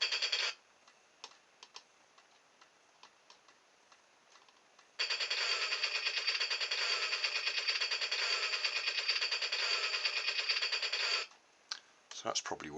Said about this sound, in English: Oh, that's the machine gun.